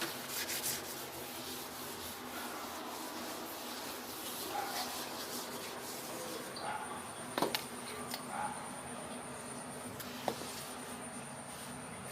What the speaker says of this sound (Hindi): तो उससे पहले मैं ये वाला जो प्लेटफॉर्म है इसको क्लीन कर लेती हूँ।